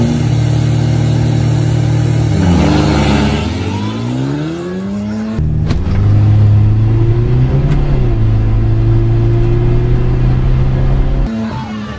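A Honda Type R gasoline race car and an all-wheel-drive diesel car launch side by side in a drag race at a Davao City event, engines roaring loud and close as revs climb through gear changes, then a second surge of acceleration follows.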